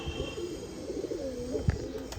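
A pigeon coos in a low rolling murmur, close and steady, with a brief soft knock near the end and no talking.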